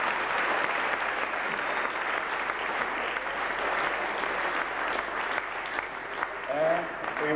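Crowd applause at a 1998 international bridge-building competition in East London, South Africa, honouring the men operating the machine; a dense, steady wash of clapping runs throughout, with a voice briefly audible near the end.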